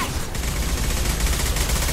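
Gunfire from the video game Mass Effect 2 fills the mix as a dense, continuous barrage of rapid shots, loud and close, with voices mixed into the din.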